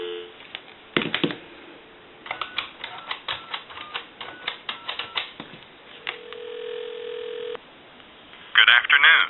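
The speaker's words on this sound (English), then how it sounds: "There's some dial tone." A Western Electric Princess touch-tone desk telephone, under repair and connected to a regular phone line, gives a series of sharp clicks and short tone bursts, then a steady dial tone, then a louder ringing burst at the end.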